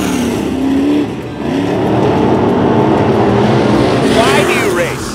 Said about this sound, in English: these race cars that you fire them up, they're loud, they're mean